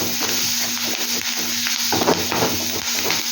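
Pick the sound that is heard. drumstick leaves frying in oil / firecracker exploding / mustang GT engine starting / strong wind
drumstick leaves frying in oil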